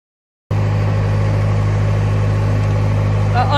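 Steady diesel engine of a narrowboat cruising along a river toward a lock, a constant low drone and hum that starts abruptly and holds even and close throughout.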